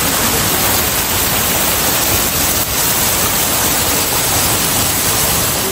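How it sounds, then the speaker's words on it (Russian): A mountain waterfall near Sochi roars in a constant, loud rush of falling water with no pauses or voices. "Вот такой вот водопад."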